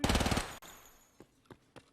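A burst of rapid automatic gunfire in Escape from Tarkov, loud and fast for about half a second, followed by a sharp crack and three separate fainter single shots spaced apart.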